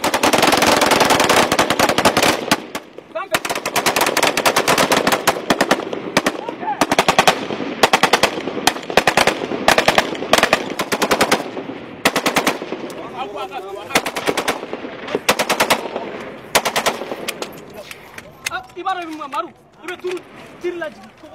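Malian soldiers lay down covering fire in battle, rapid machine-gun bursts hammering almost continuously, loud and dense with brief breaks, while a narrating voice talks over the shooting.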